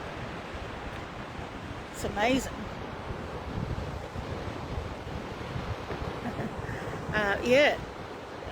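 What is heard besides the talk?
sea waves breaking on the shore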